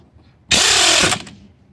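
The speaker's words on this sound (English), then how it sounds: "And we have the impact going the right way." A pneumatic impact wrench fires one short, loud burst lasting about half a second while running down lug nuts on an International 140 tractor wheel, cutting off abruptly into quiet.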